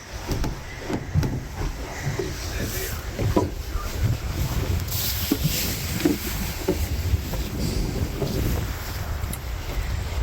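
A sailboat moves under sail alone with no engine running, giving steady wind rush and buffeting on the microphone over water swish and hull noise, with occasional faint voices underneath.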